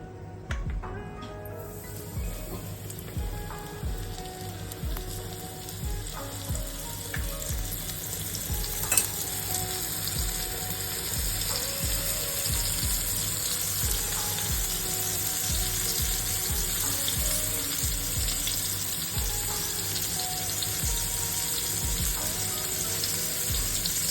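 Pomfret fish coated in rice flour and rava fries in hot oil, a loud, continuous close-up sizzle with occasional bubbling and a sharp clink partway through.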